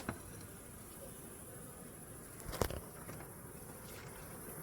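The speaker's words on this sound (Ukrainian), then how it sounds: "Ні, це бджола лазить. О! Дивіться, скільки тут бджіл зібралось" A faint, steady buzz of honey bees crawling around a hive at night hums under a quiet outdoor background, with a brief rustle partway through.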